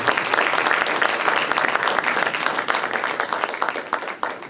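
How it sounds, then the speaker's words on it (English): Audience applause at a medical college CME event in Ahmednagar, a full hall clapping in a thick, continuous patter that stays loud throughout, then thins slightly near the end. "A big round of applause."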